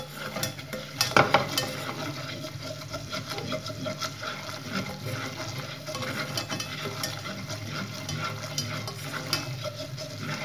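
A spoon stirs a potato gratin mixture in a casserole, a steady soft scraping and sizzling with faint clinks of utensil against the pot and no voices.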